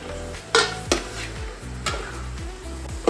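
Green chillies and chopped tomatoes frying in a pan, with sharp scraping and clinking stirs against the metal at irregular intervals over a low, steady sizzle, close by and with no talking.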